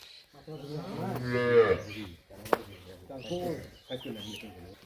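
A dairy cow moos loudly nearby, a long drawn-out low call, followed by more lowing and a sharp knock amid faint voices.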